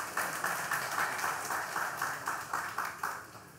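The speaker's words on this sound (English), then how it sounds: "Please give him a round of applause." An audience at a televised one-on-one political interview applauds a guest, a soft, fairly distant, even patter of clapping that holds steady throughout and fades slightly at the close.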